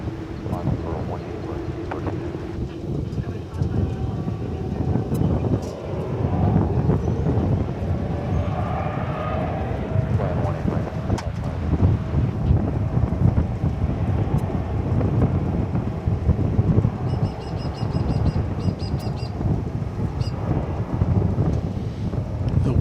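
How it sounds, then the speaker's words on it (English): Strong wind gusts steadily at the DFW airport, a loud continuous roar buffeting the microphone throughout with low rumble and faint distant aircraft noise beneath. "The wind appears to be accelerating as the morning wears on."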